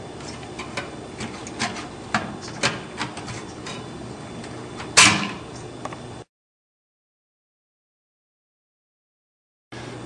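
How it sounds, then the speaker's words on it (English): A fan is pried out of an Xbox 360 console, producing a string of small plastic clicks and taps followed by one loud sharp snap as it comes free, close by, then a stretch of silence. "use your thumbs to push up on this metal flap here and pry the fan out"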